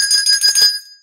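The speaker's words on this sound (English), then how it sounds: "now I have the Honeymooners Thelma bell" A handheld Thelma bell like the one from The Honeymooners rings close and loud, a quick run of bright tinkling strikes over about three quarters of a second, then the metallic ring decays into silence.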